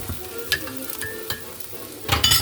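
Onions frying in a pan are stirred, with a soft continuous sizzle broken by several sharp utensil scrapes and clinks against the pan, the last ones louder.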